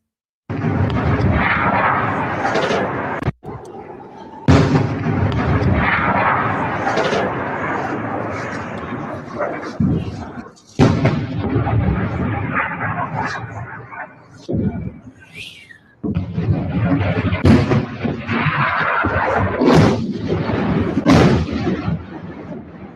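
Missile impacts and explosions from missiles fired out of Lebanon: repeated loud, broadband blasts and rumbling booms in dense succession with brief gaps, the clamour continuing across the whole stretch.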